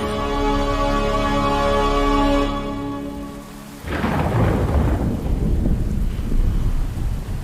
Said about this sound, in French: Regardez, vous avez vu tous ces éclairs? Ça ne me plaît pas. Je déteste l'orage.